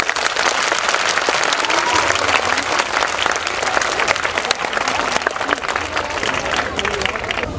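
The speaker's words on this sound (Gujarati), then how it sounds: "દિલથી તાળીના ગડગડાટથી આપણે માહિતીને વધાવશું" Loud, crackling applause from a large audience at a folk literature program runs unbroken throughout, dense with individual sharp claps and a low murmur underneath.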